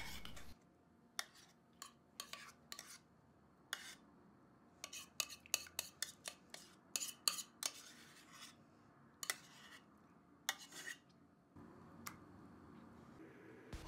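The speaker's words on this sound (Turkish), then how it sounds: "Kaşıkla tepsiye yayıyorum." A spoon spreads sticky molasses lokum paste across a square glass tray, giving a quiet, irregular series of sharp clinks and scrapes against the glass with soft pauses between them.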